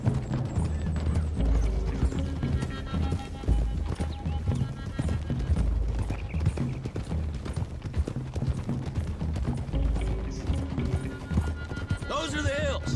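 Several horses' hooves clip-clop steadily at a trot in Red Dead Redemption 2, with a horse whinnying near the end and people talking over the hoofbeats.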